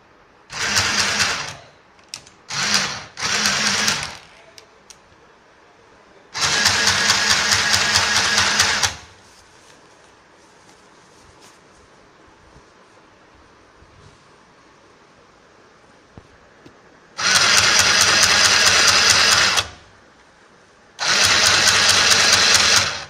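Sewing machine stitching the bottom hem of a chudidar, running in loud, close bursts of rapid mechanical whirring. Two short bursts come first, then longer runs, with quiet pauses in between.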